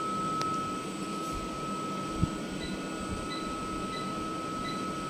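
A spray dryer's compressor runs in a steady, loud mechanical drone with constant tonal hums, and a single brief click rises slightly above the even noise partway through.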